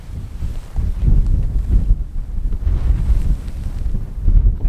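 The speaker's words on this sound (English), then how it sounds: "The problem is the wind is so strong, it's just kind of blocking any sound." Strong wind gusting across an open hillside moor, buffeting the microphone in a heavy, continuous low rumble that swells and eases, with no other sound coming through.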